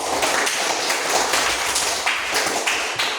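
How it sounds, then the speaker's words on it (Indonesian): Classroom of students clapping together, a loud, dense burst of hand claps close by, sustained with uneven taps throughout. "Tepuk tangan untuk Ade."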